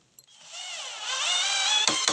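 A power drill drives a screw into a door hinge, its whine rising steadily in pitch and loudness over about two seconds, close up, ending in a couple of sharp knocks, no talking.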